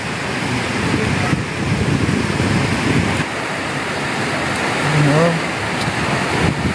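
Wind and rain from a storm roar steadily, with gusts and rattling, as sheet-metal roofing flaps nearby; a faint voice cuts in briefly near the end.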